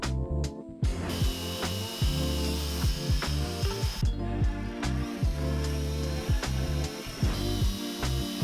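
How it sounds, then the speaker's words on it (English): A power drill whirs close by in repeated bursts as it bores rope holes into wood, with brief revving pauses between holes. "I needed to drill the holes for the rope"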